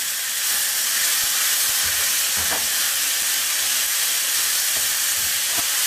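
A pot of slumgullion with beef sizzling on the stove gives a steady, close, bright hiss of frying, broken by a few faint pops and clicks, with no voices.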